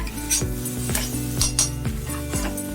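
Spinach (ponnanganni keerai), lentils and coconut are stirred and mashed in a pan for a poriyal, rhythmic metal utensil scrapes and clinks against the pan every half second over a faint sizzle.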